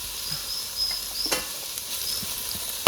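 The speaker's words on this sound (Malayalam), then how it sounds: "ഉള്ളി നല്ലോണം വാടിയിട്ടുണ്ട് നമുക്ക് ലേസ് കൂടി എണ്ണ ഒഴിച്ചു കൊടുക്കാം" Onions sauté in oil in a pan with a soft, steady sizzle up close, punctuated by a few light clinks and scrapes of a spoon against the pan.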